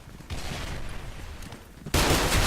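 An M870 pump shotgun in the online shooter Special Force 2 fires with loud, dense blasts that jump sharply louder near the end, with no talk over them.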